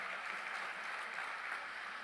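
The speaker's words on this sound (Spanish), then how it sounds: "Dele un fuerte aplauso" Church congregation giving a loud round of applause during a sermon, a dense, even patter of many clapping hands heard from a little distance without pause.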